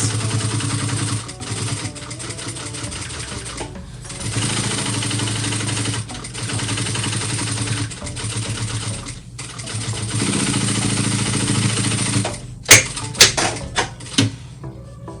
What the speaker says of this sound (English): now I'm gonna go ahead and stitch around with my basting stitch